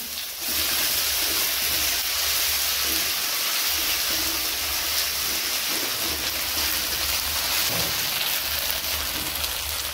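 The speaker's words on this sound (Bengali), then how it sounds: "আদা ভাজা হয়ে গেছে, এরপর আমি লঙ্কা বাটা দিয়ে দিচ্ছি।" Chili paste frying in a pan, a dense, rain-like crackle of hot oil that holds steady and loud throughout, with faint stirring knocks underneath.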